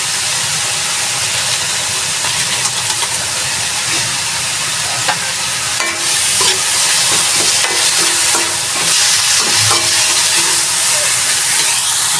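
Chicken fries loudly in a hot pan with a dense, steady sizzle and hiss, while a utensil clatters and scrapes as it is stirred, mostly in the second half.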